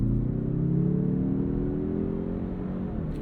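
A 2022 Mazda 3 Hatchback Turbo at full throttle, its engine note climbing steadily in pitch as it pulls hard, close and continuous with no talk.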